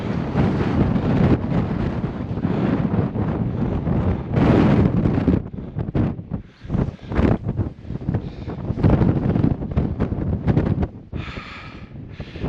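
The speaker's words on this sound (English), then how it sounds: "It's proper windy up here" Strong gusty winter wind on a hilltop buffets the microphone continuously, a loud roaring rush that surges and dips with each gust.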